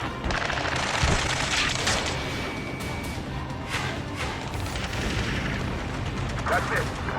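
Sustained gunfire and distant booming blasts from an Ace Combat 7 combat mission roll on as a continuous, heavy wash of noise over a steady background roar.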